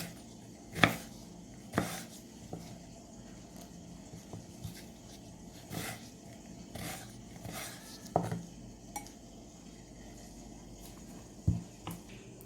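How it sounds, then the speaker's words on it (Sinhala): A knife cuts through a brinjal (eggplant) on a board, making a handful of separate, fairly quiet chopping thuds spaced several seconds apart in an otherwise calm kitchen. "ඊට පස්සේ අපි වම්බටු ගෙඩිය දෙකට කපා ගමු."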